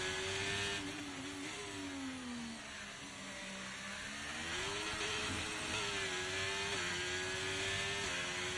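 A race car engine in a racing video game howls steadily through a hot qualifying lap at the Brazil Grand Prix, pitch dipping while braking for corners and climbing again under acceleration, loud and continuous without talk.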